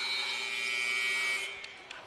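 A basketball buzzer ends the first quarter of a Brighton vs. New Mission high school game, a steady, loud electronic tone that holds for about a second and a half and then cuts off, leaving faint gym noise with a couple of soft knocks.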